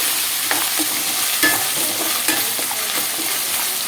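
Gongura leaves with raw prawns being stirred in a hot pan for curry: a steady close sizzle and fry hiss with soft scraping stirs of a spoon running throughout, no talking.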